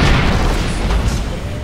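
A loud, sustained rumbling boom fills the scene as a base is blown up in the video game Red Faction 2, a dense low roar of explosions with no clear separate blasts.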